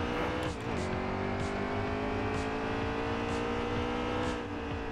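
A NASCAR race car in the NASCAR Heat 3 video game pulls out of the pits. The engine drones loud and steady and climbs in pitch through a gear change, with no voice over it.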